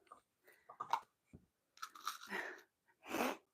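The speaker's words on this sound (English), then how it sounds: "If you guys hear that little popping sound, it's Arthur chewing on his toy" Dog chewing on a toy, producing soft crunching bites and small pops in irregular bursts separated by silence, close and fairly quiet.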